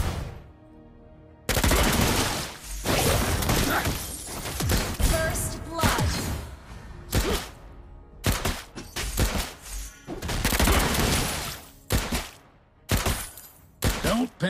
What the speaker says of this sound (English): Try to outrun my bullets.